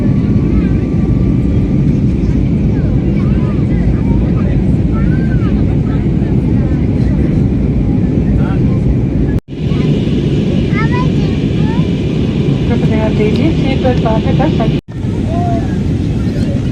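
A loud, steady roar of an airplane cabin in flight shortly before landing fills the space, with two brief dropouts, and people talk faintly beneath the engine and air noise.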